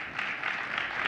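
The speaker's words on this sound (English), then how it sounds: "Round of applause." Brief, steady applause from a conference audience welcoming panelists onto the stage at an opening-night keynote, a moderate, continuous patter of clapping lasting about a second.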